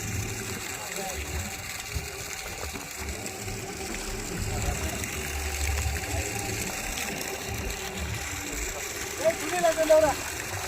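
Steady wash of falling rain with a constant hiss, a few louder splashes near the end over low background rumble.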